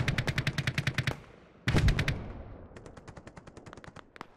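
Rapid bursts of video game machine-gun fire rattle out in quick rhythmic volleys, with a heavier blast midway and fainter distant shots trailing off.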